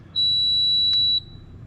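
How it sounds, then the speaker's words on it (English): A keyless RV door lock gives a long, steady high-pitched programming beep lasting about a second, loud and clear over quiet background with a brief click partway through. "when you hear that long beep"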